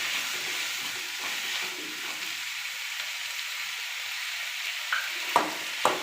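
Red capsicum and turmeric frying and being stirred in a pan, with a continuous close sizzle and a few sharp utensil scrapes near the end.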